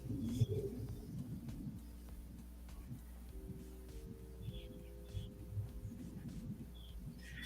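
Pigeons or doves coo outdoors, soft repeated low calls at moderate distance over a quiet background, with a few faint chirps scattered through.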